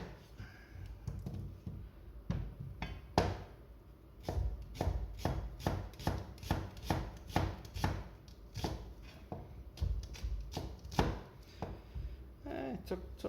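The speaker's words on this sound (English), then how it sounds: "I'm gonna split the onion in half" A knife chops an onion on a cutting board in a quick run of sharp, close, even strikes, with a few pauses between bursts and light handling noise.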